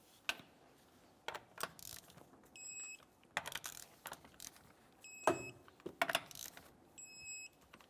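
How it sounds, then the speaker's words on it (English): Torque wrench tightening lug nuts in a crisscross pattern on a 2001-2005 Ford Explorer Sport Trac wheel, a series of sharp metallic clicks with a few short electronic beeps, faint overall. "Let's torque these in a crisscross manner."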